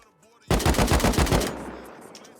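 Automatic gunfire in the video game Rust, a rapid burst of about ten loud shots lasting one second, then a short fading tail.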